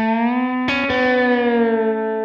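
Electric guitar string bend in a twangy country style, a sustained note with effects and slight distortion, followed by a second picked note that bends and rings out with a gentle fade.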